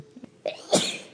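A single sharp human sneeze, close and loud, with a brief intake of breath before the explosive burst, alone without speech.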